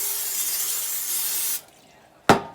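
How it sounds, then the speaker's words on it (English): Cooking oil spray hisses steadily onto an air fryer pan for about a second and a half, then cuts off, followed by a sharp clack. "so I'm going to spray my pan."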